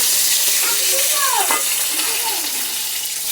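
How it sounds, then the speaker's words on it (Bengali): Fish frying in a pan, a loud, continuous oily sizzle with brief scraping as the pieces are turned over. "মাছগুলো প্রায় ভাজা হয়ে গেছে"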